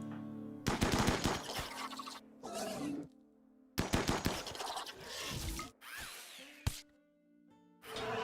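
Bursts of rapid automatic gunfire at bugs in RimWorld, loud and close, arriving in several long rattling volleys separated by brief gaps, with a sharp single crack near the end.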